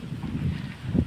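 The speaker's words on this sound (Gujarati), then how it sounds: "અત્યારે પવન ખૂબ છે" Strong gusting wind blows over a mango orchard during a small storm, a steady low roar with buffeting microphone rumble that swells near the end.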